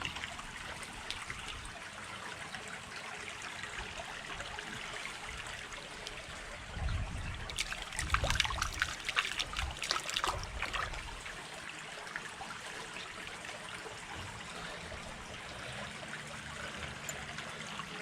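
Creek water trickles and swishes steadily over rocks as a close stream runs high, with a busier, louder surge of splashing in the middle before it settles back to an even flow.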